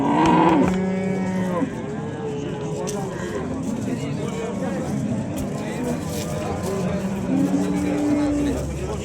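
Cows and calves moo repeatedly at an outdoor cattle market, with several long, loud lowing calls near and at middle distance over a busy background of crowd noise and people talking.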